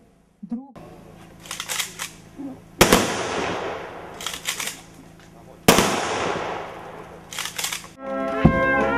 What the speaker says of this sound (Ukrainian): На їх честь та на честь всіх, хто загинув у роки Другої світової війни, пролунав військовий салют.